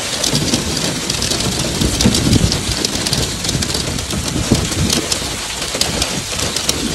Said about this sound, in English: Hailstorm and devastating snowstorm hit various areas in Saudi Arabia such as Riyadh, Al-Qassim, Najran, Asir, and Al-Bahah